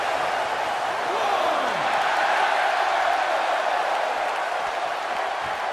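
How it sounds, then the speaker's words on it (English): Steady roar of an arena crowd at a SmackDown wrestling event in the video game WWE 2K17, a continuous broadband wash of cheering held at even loudness throughout, with no talk over it. "Another electric crowd on hand here for SmackDown"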